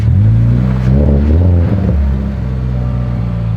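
A 2022 Subaru BRZ with an aftermarket exhaust revs loud and close, its engine note climbing sharply and then settling back toward a steadier rumble.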